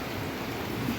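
Heavy rain pouring down after falling since the previous night, a dense steady hiss with no gaps.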